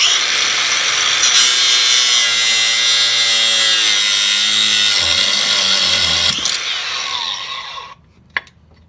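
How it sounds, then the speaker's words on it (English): Power tool cutting through the inner tie rod of a Toyota Camry's steering, giving a loud, steady, high-pitched grinding whine up close for about eight seconds before cutting out to near silence and a faint clunk. "We're just going to go ahead and just cut this inner tie rod down to get that off."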